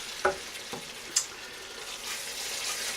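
Chana masala, spicy chickpeas, sizzling in a hot pan while being stirred, with a steady frying hiss and a few light scrapes and clinks of the spoon against the pan.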